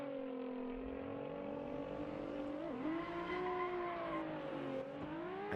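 A Nissan 370Z and a Ferrari drift car revving hard at the start of a drift battle, engines howling with rising and dipping pitch as they accelerate, loud and close, continuous with no talk.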